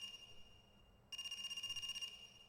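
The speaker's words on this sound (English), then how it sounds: "a phone ringing?" Within the video game AI: The Somnium Files, a telephone rings with a single trilling, warbling burst of about one second that cuts in abruptly over a quiet background.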